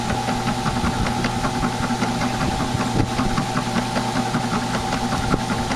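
An old drill press runs noisily and steadily, its motor humming with a loud, constant mechanical rattle and knocking throughout, close up.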